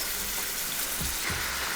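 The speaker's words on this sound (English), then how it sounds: "sizzle, just what we want." Pork browning in a pan for Filipino adobo gives a steady, fairly quiet sizzle and crackle, a continuous hiss with a few soft low bumps, no voices over it.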